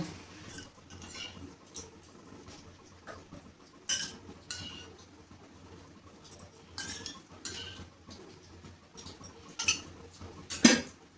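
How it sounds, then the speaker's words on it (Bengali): Roasted gram flour being stirred with ghee in a pan, a quiet soft scraping under repeated clinks and knocks of a metal spoon against the pan in irregular bursts, close by and without speech. "আমি ঘিটা দিয়ে আবার ভালোভাবে নাড়বো"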